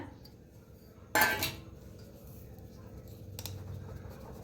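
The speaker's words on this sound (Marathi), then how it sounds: "मैद्याला चाळून घेऊया" Maida flour is shaken through a metal sieve over a basket, giving a brief, bright metallic rattle early on and a fainter one later, against quiet room tone.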